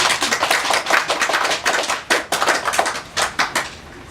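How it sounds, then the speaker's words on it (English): A crowd claps in a dense, continuous patter that pulses and thins out toward the end, with no voices over it. "Let's welcome them with a big hand of applause."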